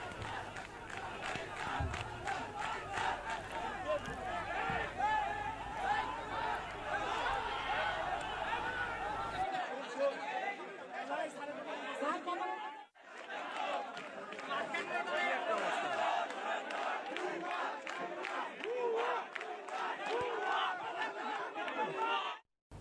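Crowd of university students loudly chanting slogans and scuffling during a campus protest over a newly appointed proctor, a dense, continuous roar of shouting voices and jostling, with a brief dropout midway before the din resumes.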